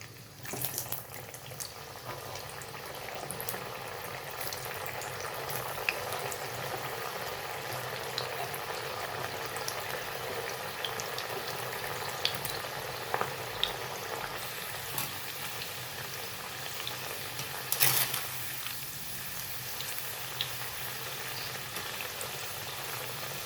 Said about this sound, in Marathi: बस एवढंच आपल्याला गाजर तळून घ्यायचं आहे